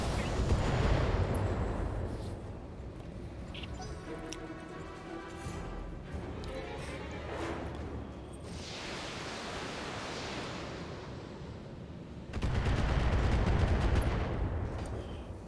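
Mech weapons volleying in the BattleTech video game: heavy booming salvos and roaring rocket-like rushes, loud and dense, with a rapid rattling burst near the end, all over continuous rumbling battle noise.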